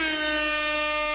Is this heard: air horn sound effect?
yes